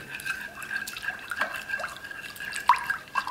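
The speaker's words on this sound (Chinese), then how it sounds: "充分的搅拌均匀" A spoon stirs a mixture of warm milk, yeast and sugar in a bowl, making soft repeated liquid clinks and swishes at a gentle, irregular rhythm, close and quiet, with no speech.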